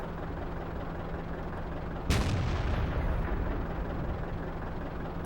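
A Waffenträger auf Pz. IV tank destroyer fires its gun in World of Tanks: one loud, close boom with a long rumbling tail over steady engine noise.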